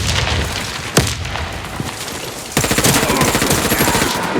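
Warface video game firefight: a sharp grenade blast near the first second, then a dense, rapid burst of automatic gunfire that rattles on loudly to the end.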